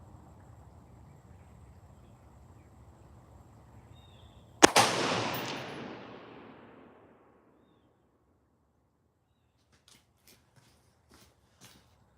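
A Smith & Wesson Sport 3 AR-15 rifle fires once at an outdoor range, a single sharp, loud crack with a rolling echo that fades over about two seconds, followed by a few faint clicks.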